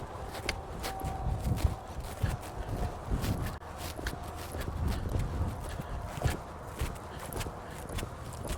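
A horse's hooves beat in an uneven rhythm as it moves off into a canter, with close, steady thuds continuing throughout and a little soft background noise.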